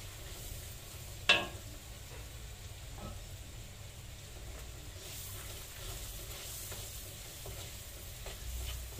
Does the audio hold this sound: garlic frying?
yes